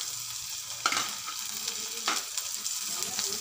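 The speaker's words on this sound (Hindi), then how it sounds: "तो लहसुन को हम अच्छे से चलाते हुए ब्राउन कर लेंगे। इसी में डाल देंगे अदरक।" Garlic and ginger sizzle in hot oil in a pan for dal fry tadka, a soft continuous frying hiss with a couple of sharp stirring scrapes, close and fairly quiet, no talk.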